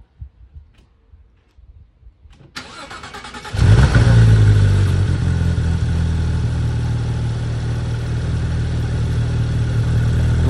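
Car engine starting after a few faint clicks and noises, a starter whirr then a loud catch into a steady rumbling idle that holds close by, with no talk.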